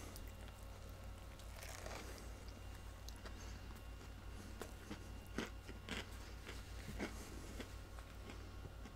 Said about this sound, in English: Let me get another bite over here where I see more of the red